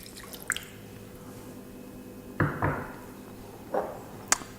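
Shaoxing wine poured into a char siu pork marinade, a few brief wet splashes and drips in a bowl, close and soft, with small clicks between.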